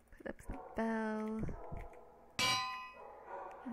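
A bell struck in Minecraft gives two bright clanging rings with long sustained tones, loud and close, while someone talks over them.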